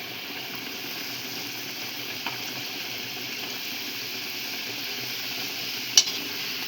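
Gulab jamun dough balls fry in hot oil, giving a soft, steady sizzle with a faint bubbling hiss and a single small clink near the end.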